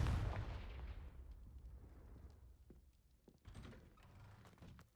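A Confringo blasting spell goes off in the Hogwarts Legacy video game with a loud, booming burst at the start that decays into rumbling debris, followed by scattered thuds and a second smaller impact near the end.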